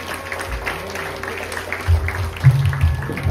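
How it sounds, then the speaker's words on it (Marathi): Audience at an Abhangrang 2025 stage programme breaking into applause, scattered clapping that swells toward the end with low background murmur underneath. "सगळ्या कार्यक्रमाच्या टाळ्या झाल्या."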